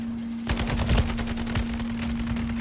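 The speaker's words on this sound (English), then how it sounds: "that turret right there just chops them up" An automated turret in Call of Duty MW3 fires a rapid series of sharp shots at moderate volume over a constant low hum, the bursts coming in quick uneven clusters.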